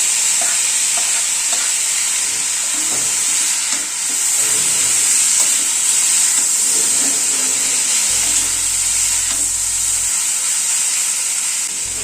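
Tomato frying in a pan for a vegetable curry gives a steady, close broadband sizzle with soft stirring scrapes, continuous and fairly loud throughout with no talking.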